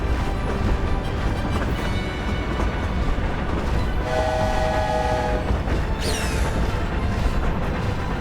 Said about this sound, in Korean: 해리포터 기차.